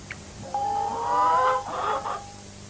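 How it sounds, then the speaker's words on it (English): Chickens cluck and call in a short burst, with one drawn-out tonal squawk followed by a rougher cackle, close and clear. "I love these chickens. Oh, they're escaping."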